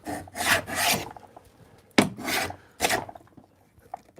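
Grooves being cut in wood for a pencil box, heard as four harsh rasping bursts, two close together, then two more separated by short pauses, near and loud with no talk.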